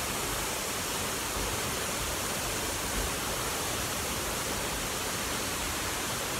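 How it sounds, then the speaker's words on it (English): Waterfall heard from behind the falling water on a forest hike, a dense, steady roaring wash of noise that fills everything without a break, loud and even throughout. "I've never stood behind a waterfall before"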